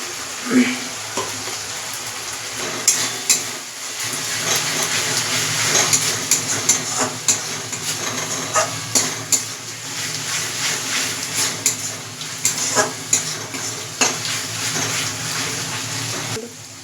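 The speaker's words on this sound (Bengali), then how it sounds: "মশলাটা একটু কষতে দিতে হবে। কষে গেলে একটু মশলাটা থেকে তেল ছাড়বে" Masala spice paste frying in oil for chicken rezala, a steady bright sizzle with occasional spoon scrapes and stirring clicks running throughout, close and moderately loud.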